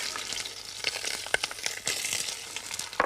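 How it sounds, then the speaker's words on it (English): Partridges brown with garlic in very hot oil in a Spanish kitchen in La Mancha. The pan sizzles steadily, with crackling pops and a few sharp clinks or stirs, close and moderately loud, with no talking. "put our partridges in there and brown them off really nicely in very hot oil, along with the garlic"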